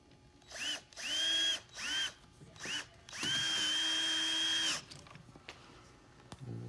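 A power drill drives two screws to reattach an upper rib arm, heard as several short close whirring bursts followed by one longer sustained run, each with a rising motor pitch, then quiet handling clicks.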